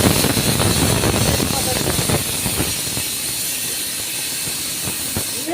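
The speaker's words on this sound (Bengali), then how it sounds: "একটা শুকনো লঙ্কা ফোড়ন দিলাম।" A dried red chilli dropped into hot oil for tempering sizzles with a loud steady hiss that eases slightly over time, close by, with faint voices in the background.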